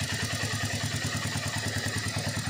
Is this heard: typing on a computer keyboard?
no